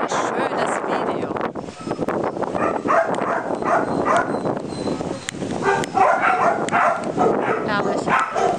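A female dog barks and yips repeatedly at close range, short sharp bursts mixed with whimpers, while people talk over and between the barks.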